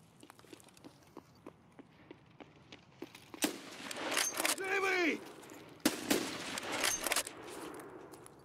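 Gunfire in the Escape from Tarkov video game, with sharp bursts and clustered cracks over steady game ambience, while a whistling tone rises and falls in the middle.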